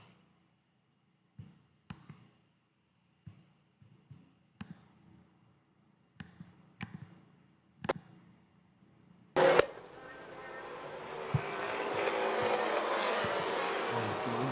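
Vintage race cars at a 1994 track event start as scattered sharp clicks and knocks, then a dense roar of engines swells in and holds, loud and sustained, with no talk.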